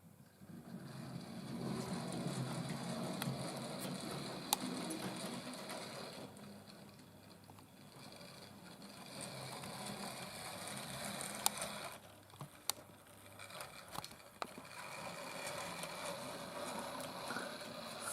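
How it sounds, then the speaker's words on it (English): An old Bachmann WD Austerity 2-8-0 model locomotive, weathered, runs with a steady whirring, gear-like motor drone that swells and fades gently over the run, with a few sharp clicks from the track. "it is an old Bachmann locomotive and Bachmann motors are loud anyway"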